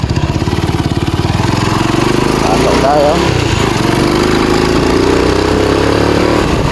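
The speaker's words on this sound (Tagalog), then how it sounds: "Sana kakayanin ng motor natin mga amigo ang taas baba dito" Small motorcycle riding a rough, hilly dirt road in Barangay Malobago, Cataingan, Masbate, a loud, close, pulsing engine chug that rises and falls over bumps, with someone talking briefly over it.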